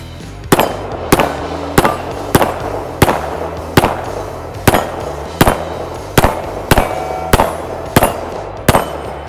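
A Canik TP9 Elite Combat pistol with a 15-round magazine fires about fifteen loud, sharp shots in an even, steady rhythm, roughly two per second, each leaving a brief ringing tail.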